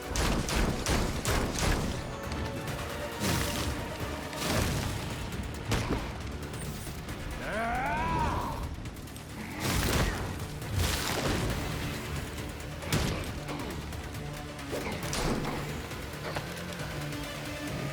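Video game gunshots, with scattered sharp shots spaced irregularly over about eighteen seconds, some loud and close and others softer, over background game sounds and brief vocal noises.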